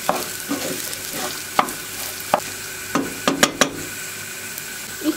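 Rice toasting in about a tablespoon of butter in a pan, with steady close sizzling broken by scattered clicks and scrapes of stirring.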